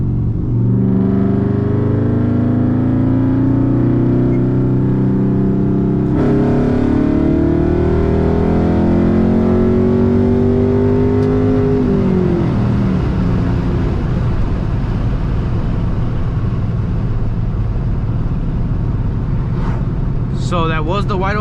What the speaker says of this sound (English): that was the wide open throttle,